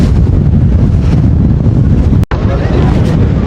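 Strong wind buffeting a moving passenger boat on the water near Kumirmari island, a loud, constant roaring rush with water noise beneath, briefly cut mid-way before resuming.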